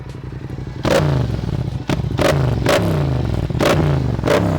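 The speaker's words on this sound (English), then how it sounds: "Let me start it so that you get to hear the sound on this bike." A Yamaha R7 sports bike engine starts up close, then barks through a series of sharp throttle blips, each rev rising and falling back to a lumpy idle.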